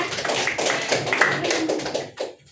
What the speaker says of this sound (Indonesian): Tepuk tangan untuk Masnya.